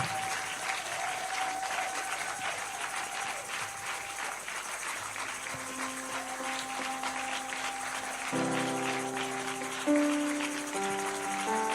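A church congregation at a Sunday worship service claps and cheers continuously, a steady wash of applause lasting several seconds, with organ or keyboard chords rising underneath toward the end.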